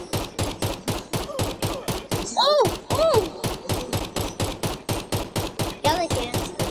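Rapid, relentless minigun fire from a minigunner tower in Roblox Tower Defense Simulator, a dense rattling stream of shots running the whole time, with brief voiced exclamations breaking in over it.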